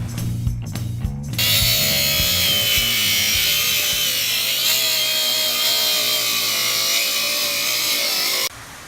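A power saw whines steadily for several seconds while trimming the overhanging edges of hardwood deck boards, loud and close, its pitch wavering slightly before it cuts off abruptly.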